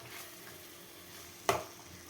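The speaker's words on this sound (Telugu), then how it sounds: "ఈ పేస్ట్ వేసేసుకొని ఇలా కలుపుకొని బాగా ఒక 5 నిమిషాలు ఆయిల్ బయటకు వచ్చేంత వరకు ఒక 2 మినిట్స్ మగ్గబెట్టుకుందామండి" Masala paste for capsicum curry stirred and cooking in oil in a pan, heard as a quiet, soft frying hiss with one short scrape of the spoon near the end.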